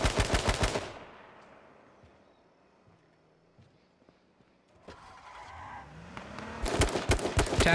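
Bursts of rapid gunfire ring out in a battle royale video game, loud at the start, fading to a quiet stretch with faint shots and clicks, then swelling back into heavy, close automatic fire at the end.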